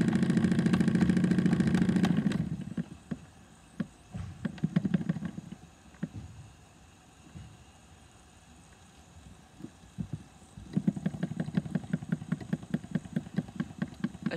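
A Wilesco D16 model steam engine with a double-acting cylinder chuffs close by in rapid even beats, eases into a slow tick-over, nearly stops, then picks back up into a steady rhythmic puffing.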